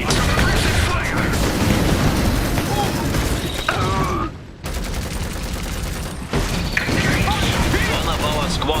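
Suppressive gunfire in the dieselpunk strategy game Iron Harvest, a loud, continuous barrage of rapid shots and booms across the whole stretch with one brief lull, while game voices speak over it.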